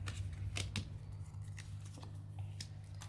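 Tarot-style cards being shuffled by hand for a reading, quiet papery riffles and snaps in a few short bursts over a low steady hum, close by with no voices.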